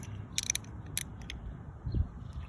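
A small dry ratchet with a 12-point socket working on the knock sensor of a 2011 Chevy Cruze 1.4, a few quick clicking bursts reaching in behind the intake, close and fairly quiet.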